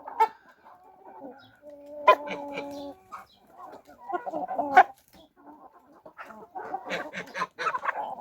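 A flock of chickens, including a crested naked-neck hen, clucks and murmurs in bursts while feeding together by a door, with close, irregular calls and a few sharper squawks.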